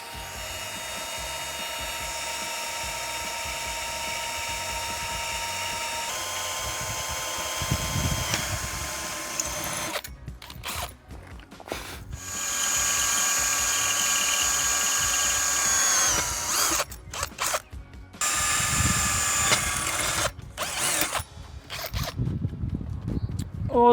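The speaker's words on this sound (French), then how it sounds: "on va percer ici avec une mèche de diamètre 5 mm" Power drill boring 5 mm holes for rivets in a hinged shutter while fitting strap hinges, a steady high whine running for several seconds, then broken bursts as the bit starts and stops.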